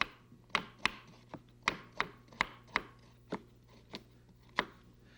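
A kitchen knife slices scrubbed, unpeeled carrots for tripes à la mode, about a dozen crisp, evenly spaced chops on a board sounding close and clear with no talking.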